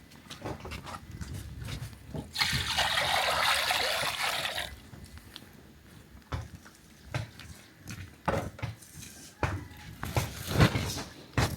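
Water pours in a steady splashing stream for about two seconds during Scotch bonnet pepper preparation outdoors by a fire, followed by scattered knocks and handling noises.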